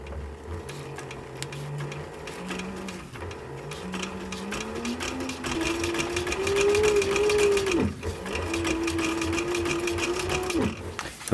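A sewing machine stitches through thick leather seams of a military patrol cap, its motor running steadily and rising in pitch as it speeds up, with brief slowdowns where the needle climbs over extra layers.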